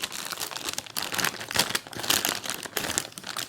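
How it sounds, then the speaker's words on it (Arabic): A bag of Chipsy potato chips is opened up close, with continuous loud crinkling and crumpling of the foil packet in rapid bursts and no voices. "يلا بينا بقى نفتح شيبسي."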